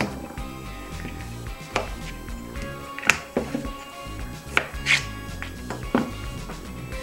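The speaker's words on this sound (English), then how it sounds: "When you do cut carrots, be careful not to chop off your fingers." A knife chops raw carrots, sounding as scattered, irregular knocks against a cutting board over a steady kitchen background, with no one speaking.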